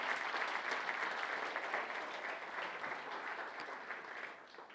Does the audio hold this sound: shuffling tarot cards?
no